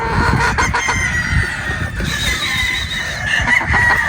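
Newly harvested gamefowl pullets in Batangas cluck in a steady, busy mix, with a rooster crowing nearby and other birds calling in a continuous, fairly loud barnyard din.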